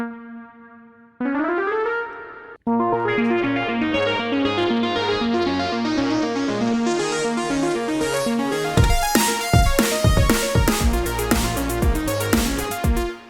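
A synthesized music loop with its instruments shifted up an octave plays steady layered melodic tones and chords, joined midway by punchy percussion hits, loud and continuous with no voices.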